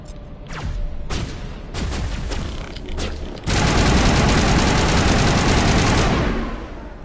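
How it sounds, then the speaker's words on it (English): Shotgun fire in the Mass Effect video game: a few separate heavy blasts, then a dense, loud continuous barrage of gunfire and impacts that fades near the end. "Why are you using a shotgun?"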